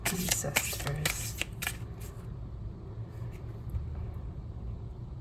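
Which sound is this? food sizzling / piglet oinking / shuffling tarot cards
shuffling tarot cards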